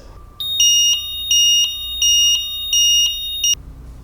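UniChock IDOT loading-dock controller sounding its pullout alert: a loud, shrill electronic alarm pulsing in regular beeps, about five repeats, close and alone.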